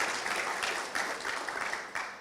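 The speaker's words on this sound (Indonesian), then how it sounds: "Berikan tepuk tangan untuk Tuhan" A church congregation at a Sunday service breaks into applause, a dense wash of many hands clapping with a few louder bursts, steady across the moment.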